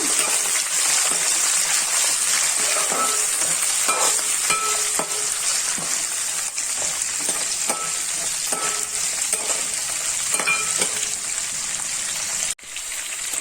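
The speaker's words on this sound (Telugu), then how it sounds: "అల్లం, కట్ చేసుకున్న పచ్చిమిర్చి వేసి ఫ్రై చేసుకుంటానండి" Ginger, black peppercorns and chopped green chilies crackle in hot oil, a steady close hiss broken by scattered pops and occasional spatula scrapes, with a brief clunk near the end; no one speaks.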